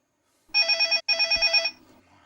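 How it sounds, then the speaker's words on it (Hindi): A telephone rings once: a loud, close electronic double trill with a brief pause in the middle, then quiet. "फोन बज रहा है।"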